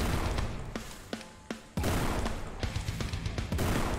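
Sharp gunshots in the video game Forgive Me Father crack in quick irregular bursts, some single and some in rapid strings, over a busy background.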